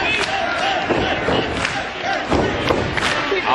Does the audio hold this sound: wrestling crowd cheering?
yes